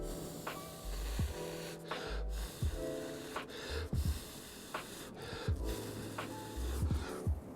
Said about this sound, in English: you go like this and you blow right away and it will leave no mark